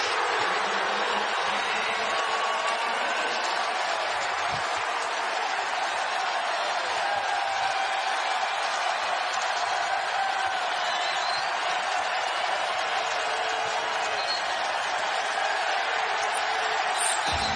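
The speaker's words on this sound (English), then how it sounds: "Nate Oates pumps his fist to this crowd. They're going crazy." A packed basketball arena crowd roars continuously during Alabama's 7-0 run against Baylor, a dense, loud wall of cheering that holds steady without a break, with a commentator's voice faintly mixed in.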